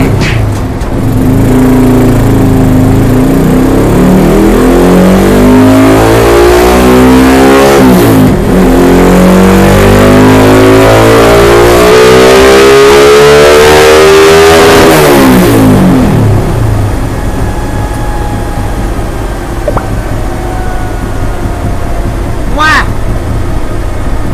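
A Honda Wave 125 motorcycle engine revs loud and close, climbing and falling repeatedly in long sweeping pulls with a rough buzzing tone, then settles to a steady idle.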